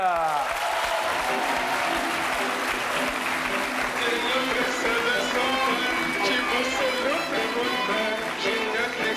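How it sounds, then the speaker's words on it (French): A French television game-show studio audience breaks into sustained, dense applause and ovation, loud and steady for the full stretch with no pause. "Je vous demande d'applaudir, s'il vous plaît, Catherine."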